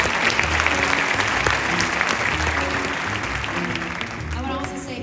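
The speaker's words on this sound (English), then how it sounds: "So give a round of applause for those guys." Audience applause fills a Times Square performance space, dense steady clapping from a large crowd throughout, loud and close, with faint cheering mixed in and slowly easing toward the end.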